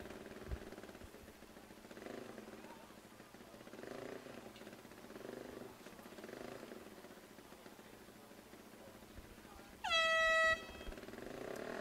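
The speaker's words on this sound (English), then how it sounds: "the air horn sounds. That's the signal to the crews to step away from the car." At a speedway race, a loud air horn blasts once, near and steady for about a second, sounding over a low background hum of track ambience.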